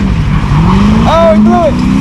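Car tires squeal during a burnout at a street or track event, with a loud engine roar and rising, wavering squeal tones near the midpoint while spectators talk and shout over it.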